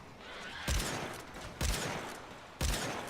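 Gunfire in the video game Warframe, three heavy booming shots roughly a second apart, each with a short rumbling tail over a faint background hiss.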